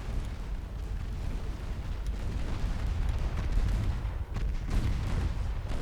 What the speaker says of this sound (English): And another ammo detonation.